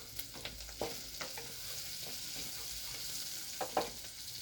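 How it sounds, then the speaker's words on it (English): Steady frying sizzle of beans with occasional clinks and scrapes of stirring in a pan, fairly quiet and close, with no talking. "We are frying the beans."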